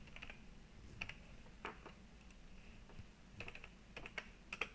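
Computer keyboard typing into a spreadsheet, with scattered, fairly quiet keystroke clicks in short bursts and pauses, close by and without speech.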